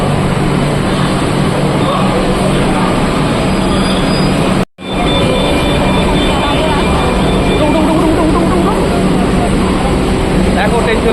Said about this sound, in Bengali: দেখো ট্রেন চলে যাচ্ছে